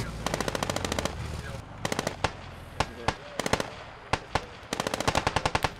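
Machine gun suppressive fire in a squad-based video game, loud close rapid bursts of automatic shots broken by single cracks and short pauses, with more bursts near the end.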